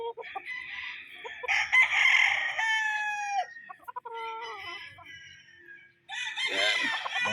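A gamefowl rooster of the tornado bloodline crows loudly and close, two or three drawn-out cock-a-doodle-doo calls with clucking between, while a voice speaks briefly in the background.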